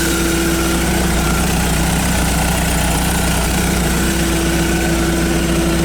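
Volkswagen bus engine idling after some repair work, a steady, even low rumble with a constant hum, running alone without any voices.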